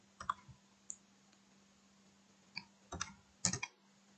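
Computer keyboard being typed on while entering commands in Maple software, a few faint scattered key clicks in short bursts against a quiet room with a low steady hum.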